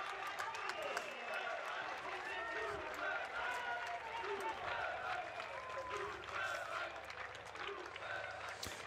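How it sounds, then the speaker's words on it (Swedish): Football crowd at a Dalkurd versus Åtvidaberg match chanting a player's name after a volleyed goal, a dense, steady roar of many voices filling the stadium under a commentator talking throughout. "Super Aydin hör vi från publiken också"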